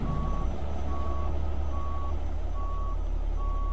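Truck reversing alarm in American Truck Simulator, a steady electronic beep repeating about every 0.8 seconds over a constant low engine idle hum, clear and close, with no talking.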